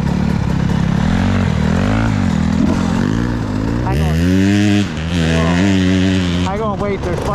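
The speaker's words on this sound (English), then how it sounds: "Wait, there's bikes coming." Several motorbikes approach on a road, their engines rising into a droning, revving whine that swells louder midway. Close talking runs over the engine noise for most of the time.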